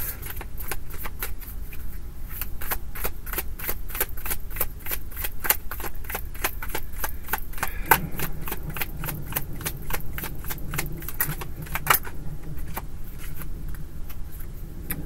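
Rapid, dense clicking and riffling of tarot cards being loosely shuffled, repeated in quick bursts close to the microphone, with no voices.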